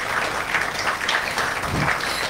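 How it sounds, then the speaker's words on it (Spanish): Audience applause for a woman welcomed on stage at an International Women's Day event on preventing gender violence, a steady wash of clapping filling the whole stretch at moderate loudness, with no talk over it. "aplausos para ella"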